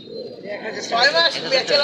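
Soft diamond dove coos repeat through a busy background of people talking at a bird and pigeon market, the calls moderately close and blending with the chatter.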